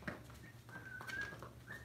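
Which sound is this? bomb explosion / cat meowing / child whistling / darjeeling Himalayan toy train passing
child whistling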